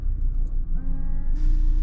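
Windscreen wipers on an Audi TT RS judder across the glass, rising into a squealing, tonal screech against a low background rumble, heard close and without talk.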